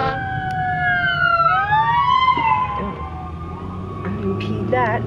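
A police car siren wails and yelps during a traffic pullover, heard from inside a Chevy Lumina V6 on the road, rising and falling tones fairly close over engine and road rumble, with a person talking briefly.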